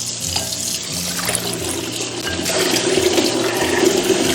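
A kitchen tap runs steadily while cooked food and a pot are washed during preparation of a Northeastern Chinese iron-pot stew, a continuous close rush of water that grows slightly louder toward the end.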